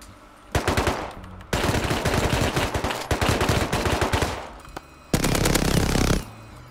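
Rapid bursts of automatic gunfire in the video game Rust, loud and close, in three long volleys with brief pauses between them.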